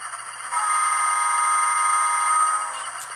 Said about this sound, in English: Oh, that puts the horn up there louder than it was before.